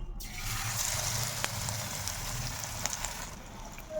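Gram-flour battered tomato slices sizzling in hot oil, a steady dense crackling hiss close by with a few sharper pops, no voices.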